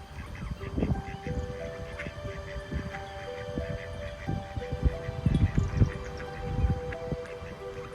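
Geese honk and quack repeatedly at a pond's edge, parent birds with goslings walking beside the water, the calls overlapping at close range amid steady outdoor background noise.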